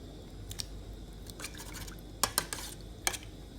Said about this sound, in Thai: เราก็เอาเครื่องที่ เราโขกเตรียมไว้นะคะ ละลายลงไปกับ กะทิค่ะ